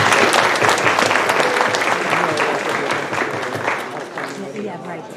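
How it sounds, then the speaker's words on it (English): Audience at a community alliance meeting applauds steadily for about five seconds, dense clapping that stays loud and slowly tapers off. "Let's give them all a big round of applause."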